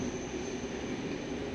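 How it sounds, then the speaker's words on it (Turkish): Steady rolling rumble of a passenger train on the rails between Rome's airport and the city centre, heard from inside the carriage as a continuous, even wash of wheel and track noise with no talking. "Tren yolculuğumuza devam edelim o zaman."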